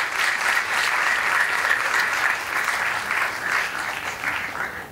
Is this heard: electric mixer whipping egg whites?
no